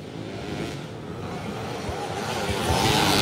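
A stock enduro motorcycle roars at a local enduro race in Matupe, San Fernando; the rough engine drone holds steady and near, then grows louder toward the end, with faint voices mixed in.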